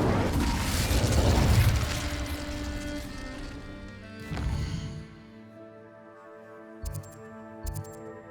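Casting the Incendio fire spell in Hogwarts Legacy sets off a loud roaring whoosh of flame that fades, then a second burst and a few short bright magical chimes near the end.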